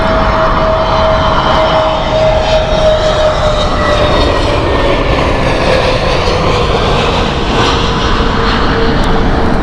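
An Airbus A320neo jet lands at Heathrow Airport in the evening, its engines roaring loudly and continuously with a broad, sustained rumble and a slowly shifting whine.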